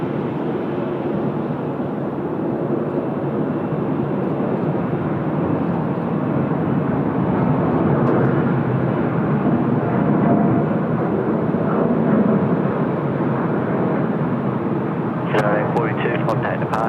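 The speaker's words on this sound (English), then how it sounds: "Here we go, United A42 rotating for Los Angeles." A United Airlines jet rotating and taking off from Sydney Airport bound for Los Angeles, a loud, steady broadband engine roar holding throughout, with someone talking faintly over it.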